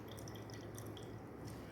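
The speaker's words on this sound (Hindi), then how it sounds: "अच्छा देखें, ये पानी मैं निचोड़ रहा हूँ।" Liquid drips and trickles steadily as juice is squeezed from grated onion into a small bowl, a close, continuous wet patter with no talking.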